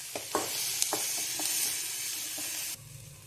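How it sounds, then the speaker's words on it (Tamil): Onions sautéing with a little powdered salt in a pan after green chillies, a steady close sizzle with a few soft stirring knocks, then quieter hiss near the end. "ஆனியன் போட்டதும் வதங்கிறதுக்காக தூள் உப்பு கொஞ்சமாக போட்டுக்கணும்"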